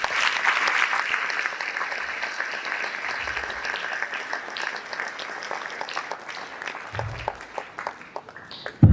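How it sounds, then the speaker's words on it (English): A school audience at a student leaders investiture ceremony gives a round of applause, sustained clapping that slowly fades toward the end, with faint low thumps underneath. "So I think they deserve a round of applause."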